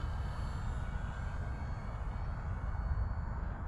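A radio-controlled plane's electric motor drones steadily in flight over a short-grass field, a constant nearby whine that holds even throughout.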